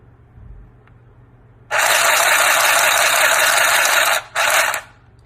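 A portable handheld sewing machine stitching cloth gives a loud, close, steady mechanical whirr and clatter that runs for about two and a half seconds, stops briefly, then bursts again before cutting off.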